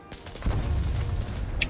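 Gunfire in a tank video game with Israeli vehicles: a dense, continuous rattle of shots and heavy rumbling impacts that builds and holds loudly throughout, with no talking.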